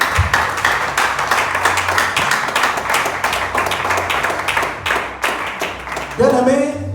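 Church congregation breaking into steady applause, many hands clapping in a dense, close rhythm for several seconds before it trails off and a voice begins to speak.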